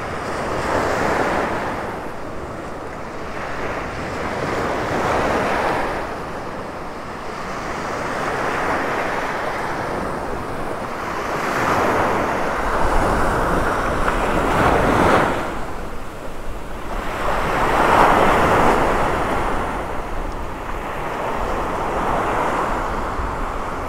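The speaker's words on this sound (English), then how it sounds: "Sounds of the waves are just so relaxing, so hypnotic." Ocean surf breaks on the beach in North Naples, Florida, in the early morning, each wave swelling and washing in slow repeating surges with steady wind buffeting the microphone and no voices.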